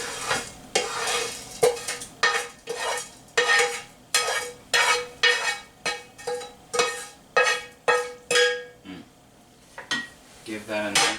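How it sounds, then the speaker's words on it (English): Mexican corn, onion and bacon stirred in a pan: a rhythmic series of loud scraping spoon strokes over a soft sizzle, about a dozen sweeps in quick succession. "Give that a nice stir."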